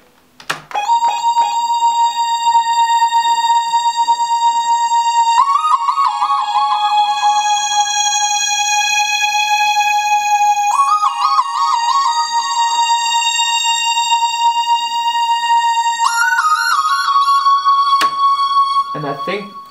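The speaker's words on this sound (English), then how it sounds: "for the pre-chorus and for the intro I added a lead sound," Synth lead for the intro and pre-chorus of a piano-loop hip-hop beat, a bright bell-like tone holding a steady note with repeating ornamented phrases every few seconds, loud and alone.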